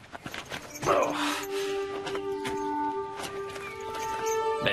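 Horse hooves clop unevenly on hard ground close by, mixed with scuffling movement and a murmur of voices in the background.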